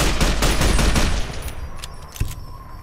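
A weapon in Fallout: New Vegas fires a loud, rapid volley of close gunshots that stops abruptly partway through. A single sharper report follows against a quieter hum.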